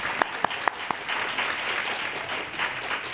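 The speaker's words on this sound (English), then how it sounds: "Let's give them all a round of applause." An audience at a conference panel gives a short round of applause, opening with a few distinct sharp claps before settling into a steady, moderate patter of clapping.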